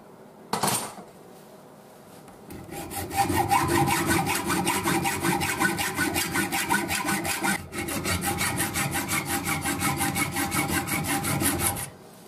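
A hand saw cuts down the metal pins and tube of a knife handle during a refurbishment, making rapid, even rasping strokes, loud and close, that run for several seconds, pause briefly, then resume.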